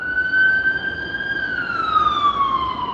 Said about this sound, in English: we're gonna let that ambulance go by right quick